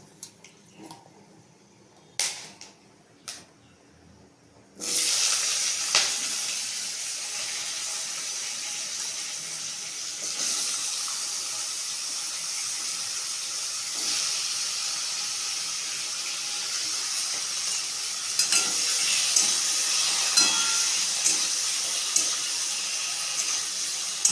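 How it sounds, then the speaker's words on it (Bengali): Potatoes hit hot oil in a pan after a tempering of cinnamon and cloves. A steady sizzling hiss starts abruptly after a few quiet knocks and continues loud and even, swelling slightly toward the end. "দিয়ে এবার আলুগুলোকে ভাজা দেবো"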